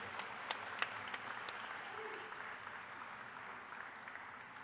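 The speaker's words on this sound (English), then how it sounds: "We'll just keep the round of applause going for him." Steady applause from a graduation audience at a technical school ceremony, with dense crowd clapping and a few distinct sharp claps early on, continuing evenly throughout.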